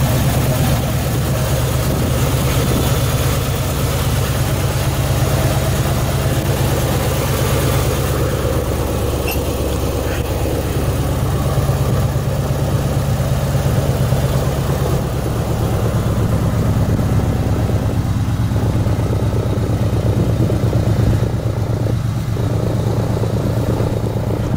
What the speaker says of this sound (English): Engine just as smooth as can be.